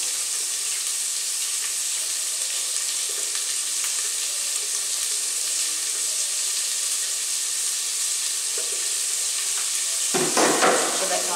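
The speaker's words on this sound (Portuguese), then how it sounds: "Metade aqui de um pimentãozinho, pra refogar junto aqui com a cebola" Half a bell pepper sautéing with onion in a pan: a steady, bright frying sizzle that holds evenly throughout, with a brief louder clatter of stirring near the end, no talking.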